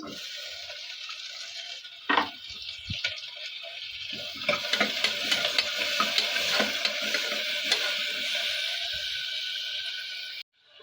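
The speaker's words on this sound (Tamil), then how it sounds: "இப்போ வெங்காயம் தக்காளி கொஞ்சம் ஃப்ரை ஆயிடுச்சு" Chopped small and large onions with a cup of tomatoes fry for sambar, a steady close sizzle running throughout with occasional spoon stirs and scrapes in the pan, no voices.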